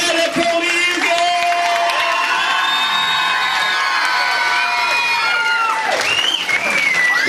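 Loud audience applause and cheering with whoops and shouts at a hypnotist stage show in Magaluf, a continuous crowd roar lasting throughout with tonal whistles or stage sounds layered on top.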